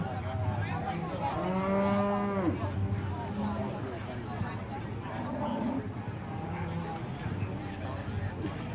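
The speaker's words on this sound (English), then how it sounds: "We now need the cow-calf pair" A cow and her calf moo at a beef cattle show, a long, loud, drawn-out bellow standing out over a busy arena of crowd murmur and announcer chatter, followed by fainter lowing.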